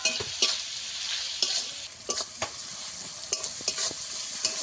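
Onions with a little salt fry in a pan for a fish curry, a close, steady sizzle broken by repeated scraping knocks of a stirring spoon at an uneven rhythm, with no voices.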